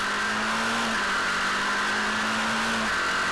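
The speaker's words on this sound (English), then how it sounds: "Great getaway, nice and clean, not too much wheel spin at all. And you can hear the car not labouring either, so great start." A formula race car accelerates away from the start at Queensland Raceway, its engine a loud, sustained high-pitched whine that holds steady throughout.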